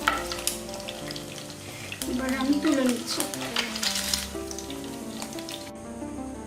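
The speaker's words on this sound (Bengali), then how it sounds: "বাকি ডিমটাও ভেজে নেব" Eggs frying in hot oil for egg pantua pitha make a continuous crackling sizzle with occasional utensil clinks, while someone speaks briefly over it.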